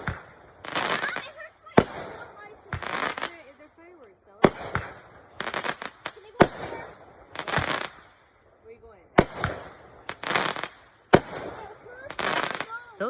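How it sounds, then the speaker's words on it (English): A fireworks show with repeated loud bursts and crackling explosions in irregular succession, each sharp bang followed by sizzling crackle, with some faint voices between. "Nothing but awesome fireworks show"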